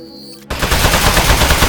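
Rapid automatic gunfire in the Aperture Desk Job video game, aimed at a metal robot, bursting in abruptly after a brief quiet moment and rattling on loud and close.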